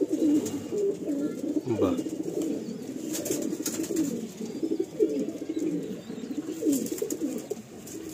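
Madrasi pigeons coo continuously at close range in a loft, their low, rolling calls overlapping in steady waves, with someone briefly speaking once over them.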